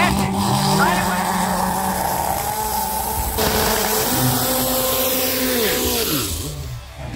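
Two Chevette cars race down a drag strip at the Cascavel raceway, their engines roaring loud and close with pitch shifts as they rev, under an announcer's excited commentary.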